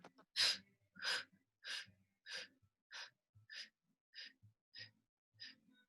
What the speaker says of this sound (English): So we go, breathe in and out.